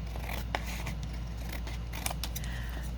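Scissors snip through a vintage book page for junk journal strips, giving a few quiet, close, crisp cuts and light paper rustles over a steady low background hum.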